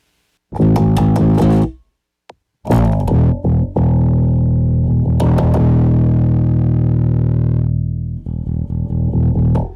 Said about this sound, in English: take away the dry now and just listen to just the distortion, see what it's actually doing